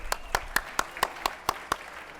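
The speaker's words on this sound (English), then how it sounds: "One more round of applause, please." Hand clapping at a retail franchising conference session: about eight sharp, evenly spaced claps in quick succession, close and distinct rather than a dense crowd roar, with no talking.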